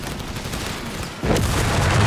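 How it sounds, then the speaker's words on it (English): In Company of Heroes 3 gameplay, a heavy mortar fires on an MG42 position, heard as a deep thudding boom that swells partway through over steady battlefield rumble. "heavy mortar letting rip on the MG42 out the back"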